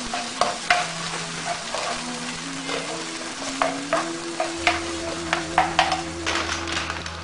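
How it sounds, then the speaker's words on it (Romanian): Tomatoes go into golden fried onions in a pan for a tuna and tomato pasta sauce, with a loud close sizzle and repeated scraping stirs and utensil knocks over a low steady hum. "Ceapa este aurie, adăugăm roșiile."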